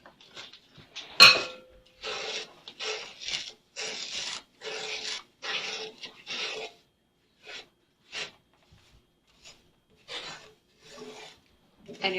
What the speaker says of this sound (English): you're just going to stir that all around until you have a nice mixture of gooey goodness